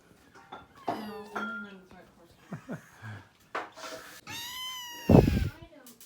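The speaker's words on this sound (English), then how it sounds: "So this is Lizzy's kitty, officially." A small kitten meows several times indoors, thin high cries with harmonics, one louder call near the end, while people talk softly nearby.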